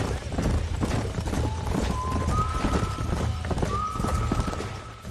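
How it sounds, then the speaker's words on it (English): Horse hooves clop along at a trot in the video game Red Dead Redemption while a horse whinnies in drawn-out tones, with a rumbling mix of sound underneath. "These are fine horses."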